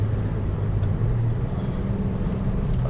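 Intake and exhaust noise from a Mitsubishi Colt Ralliart Version-R on rough, punishing roads, a steady low engine drone with road rumble, continuous and fairly quiet, no talking.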